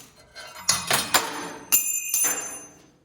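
A 5/16 drill bit being removed from a drill press chuck, a few sharp metallic clinks and knocks followed by a ringing metal tone, close and fairly loud, with no talking.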